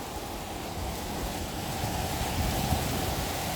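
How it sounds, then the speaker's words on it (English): Strong wind gusts of a summer storm in Washington, DC roar as a steady, broad rushing noise buffeting the microphone, swelling slightly toward the end, with no talking. "we just got some insane wind gusts"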